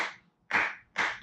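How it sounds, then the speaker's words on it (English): Three sharp hand claps from a single person, close and spaced about half a second apart, with no voices. "I just want to give you a round of applause if you doubted the Patriots"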